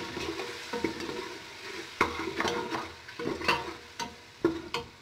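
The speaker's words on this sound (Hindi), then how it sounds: "अच्छी तरह से इसको मिक्स करना है।" Spice masala of red chilli, turmeric and salt fries in a pan for white lobia as a spoon stirs it, with repeated scraping strokes over a low sizzle, close and uneven.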